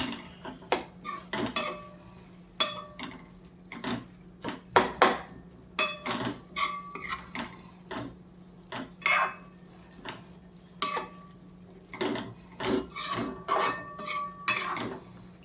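Drumstick leaves (murungai keerai) are stirred with masala in a pan, giving repeated sharp metallic scrapes and clinks of a spoon against the pan at an irregular rhythm, close and clear over a low steady hum, with no talk.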